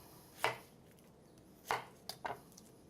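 A knife chops a white onion into even brunoise cubes on a cutting board, three crisp close knocks spaced unevenly, with a quiet room between strokes.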